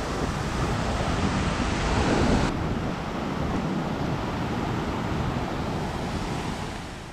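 Dumbara (Duwili) falls in Sri Lanka's Knuckles Range roars continuously, a broad, steady wash of falling water mixed with some wind buffeting.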